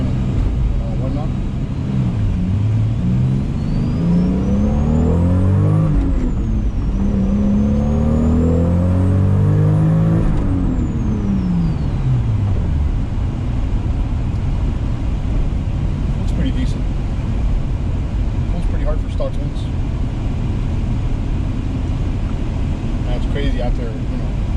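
Engine of a 1996 JDM Toyota Supra on a test drive, heard from inside the cabin as a steady close low drone with several rising and falling revs early on, then settling into a continuous cruise hum with road noise.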